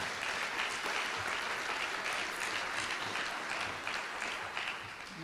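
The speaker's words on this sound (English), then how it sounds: "Let's give him a round of applause." Sustained audience applause fills a hall at the 2022 Delaware Teacher of the Year announcement ceremony, dense steady clapping holding for several seconds before easing slightly at the end.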